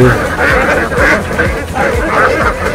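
Ducks on a duck farm quack repeatedly in overlapping, rhythmic bursts, a close and loud flock chattering over murmured voices in the background.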